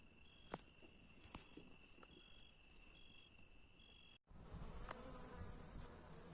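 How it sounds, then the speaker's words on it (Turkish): Dense, steady buzzing of many drone bees in a garden, close and continuous, with a constant high whine and occasional sharp ticks; the buzz swells louder toward the end. "Çok fazla bir erkek arı var."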